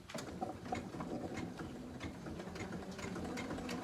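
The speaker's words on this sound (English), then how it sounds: "let's do our tack down stitch now" Janome MC230E embroidery machine sewing a tack-down stitch on a camouflage appliqué beanie hat, a steady rapid mechanical ticking and whirring that runs continuously, close and fairly quiet, with no talk.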